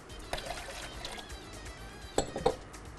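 Water is poured for homemade pizza dough in a kitchen, a faint trickle with a couple of louder splashes and clinks near the end.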